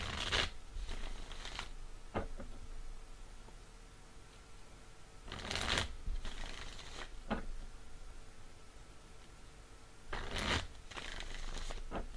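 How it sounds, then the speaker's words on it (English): Tarot cards being shuffled in three separate bursts of fast riffling, each followed by a quieter stretch of soft handling, fairly close and moderately loud. "So I'm just gonna shuffle the cards."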